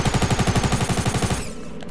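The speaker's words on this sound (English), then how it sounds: "Who's shooting?" Rapid automatic gunfire in Fortnite, a steady rattling burst of about a dozen evenly spaced shots, loud and close, stopping abruptly near the end with no talk over it.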